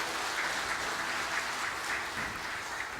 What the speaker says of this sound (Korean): 우리 시온 찬양대를 위해서도 박수 한번 해주시겠습니다